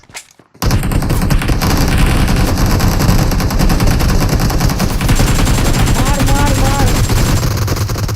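Rapid automatic gunfire from a shooting video game in 3v3 mode, loud and continuous bursts of rifle fire, with voices talking over the shooting throughout.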